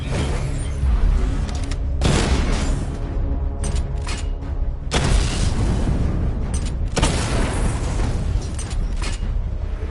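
Loud, continuous barrage of booming explosions and bursts from missile attacks in a PS5 video game, with heavy blasts erupting at intervals over a dense rumble, no voices.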